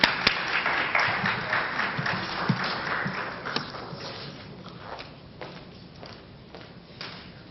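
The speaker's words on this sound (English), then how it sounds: "Please, let's give her a round of applause." Scattered clapping from a crowd, dense at first and thinning out over several seconds, with a few louder individual claps standing out.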